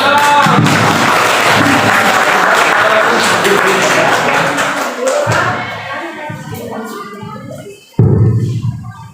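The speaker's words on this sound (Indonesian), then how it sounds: "Tepuk tangan." An audience at a school teachers' dissemination event at SMA Negeri 1 applauds, a thick wash of clapping that gradually thins and fades out, followed by a brief thump near the end.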